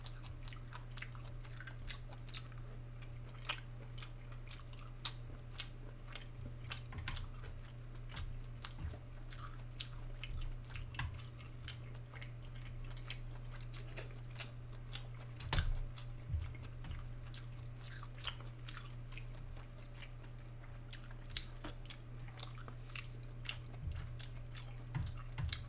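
Cow tripe and chewy shiitake mushroom stems are eaten close to the microphone, with soft, wet, squishy chewing and small bites repeating steadily over a low background hum and no talk.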